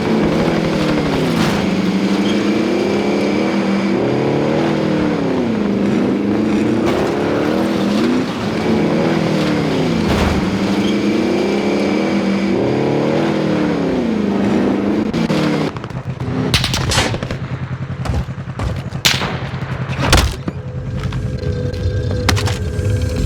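A vehicle is driven in Call of Duty: Modern Warfare, with a loud, steady engine drone that rises and falls in pitch as it accelerates and shifts, then gives way to clattering impacts and rougher motor noise near the end.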